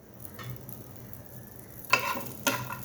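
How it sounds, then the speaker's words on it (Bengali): Almonds frying in a pan give a faint, low sizzle, broken by two sharper bursts of spatter or stirring clatter near the end. "দেখেন কীভাবে ভেজে নিচ্ছি।"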